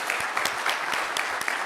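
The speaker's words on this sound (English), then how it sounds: "Let's give her a round of applause." Conference audience at a university event giving a round of applause, steady moderate clapping with a few distinct sharp claps standing out nearby.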